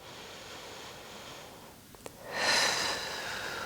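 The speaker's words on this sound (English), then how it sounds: "Just take a couple of deep breaths here." A slow, deep breath drawn in and let out during a hip and pelvic floor stretch, lying with the legs falling open. A soft, airy exhale swells near the end and stays close and alone.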